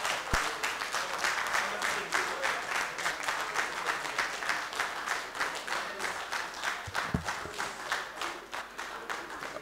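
A room of people at a press briefing applaud the minister, steady rhythmic clapping that carries on for several seconds at an even, moderate level.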